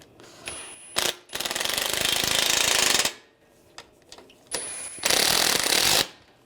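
Power ratchet or impact tool tightening the mounting bolts on the AC condenser of a 2013-2016 Dodge Dart 2.4L, two loud sustained mechanical whirring bursts of about two seconds and one second, each led by short clicks, close and with no talk.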